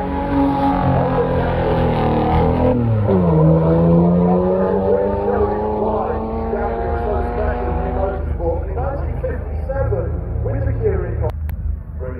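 Metallic-blue Jaguar C-Type racing car in Ecurie Ecosse colours climbing Kop Hill at a hill climb event, its engine roaring loud and close, revs dipping then climbing steadily through a gear, with a voice talking over it.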